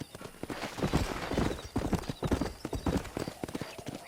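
Horse hooves clip-clopping in the Red Dead Redemption video game near a cow pen, a dense, loud, continuous rhythm of hoof beats with other hooves mixed in and faint sounds underneath.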